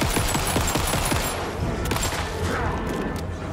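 Rapid bursts of gunfire in the video game Alan Wake 2, a dense volley of shots in the first half that thins into scattered reports over a steady low background, with no talk.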